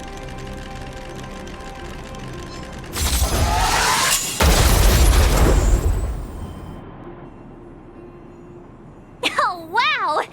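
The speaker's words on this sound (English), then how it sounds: "We wiped them all out in a single explosion!" A big explosion in the video game Honkai: Star Rail: a sudden loud shattering blast that rumbles for a few seconds, then fades into a quieter background with a short voice at the end.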